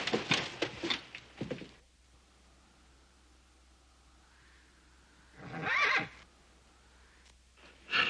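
A horse whinnies in two loud bursts, a long shaky neigh at the start and another a few seconds later, with quiet gaps between.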